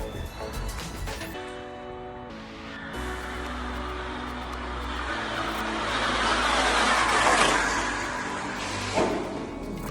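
A Tamiya TT02 1/10-scale RC car with speed upgrades runs flat out along a long stretch, its whine building and swelling in the middle, with faint voices in the background.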